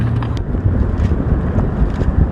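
Gusty wind buffets the microphone in uneven low rumbles on an overcast, windy shore, swelling and easing over a couple of seconds, with no voices.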